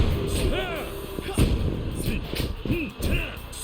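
Bombs go off in Yakuza 3 Remastered on PS5, with heavy booming blasts and thuds scattered through a busy game fight, some swooshing effects and a voice faintly in the mix.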